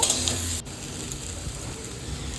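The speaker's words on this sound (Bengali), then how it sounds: "নুন হলুদটা দেওয়ার পর আমি কিছুক্ষণ নাড়াচাড়া করে নেব" Vegetables with salt and turmeric are stirred in a frying pan, giving a steady, close sizzle with a brief dip as the spoon moves through them, and no voices.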